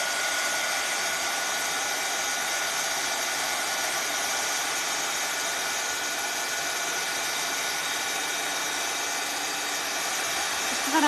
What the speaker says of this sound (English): Actually, I'm gonna blow dry it.